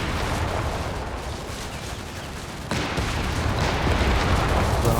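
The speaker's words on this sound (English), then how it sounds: "Still pretty good rate of fire on those AT rifles." Dense, continuous gunfire from anti-tank rifles and other weapons in a Company of Heroes 3 battle, loud and overlapping with no gaps, growing slightly louder partway through.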